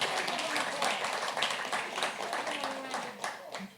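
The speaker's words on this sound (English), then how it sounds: "Yes, let's applaud." Applause from an audience at a press club journalism awards ceremony, a steady wash of many hands clapping through the whole stretch, fairly distant and moderate in level, with a voice also present.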